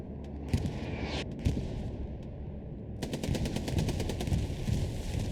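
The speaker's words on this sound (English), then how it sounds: "Kaiser with the machine gun. Making good use of it here, laying right on the corner." Machine gun fire rattles in Hell Let Loose, a competitive WWII shooter match, with rapid bursts and scattered gunshots, loud and close, the fastest sustained burst coming in the second half.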